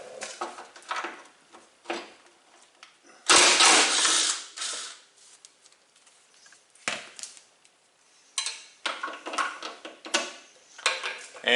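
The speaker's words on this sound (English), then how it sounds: "we'll need a 15mm socket to pull out the hood hold down up on top" A 15mm socket ratchet loosening the hood hold-down on a Jeep TJ, with intermittent clicking ratchet strokes in short bursts separated by quiet gaps and handling noises, close by.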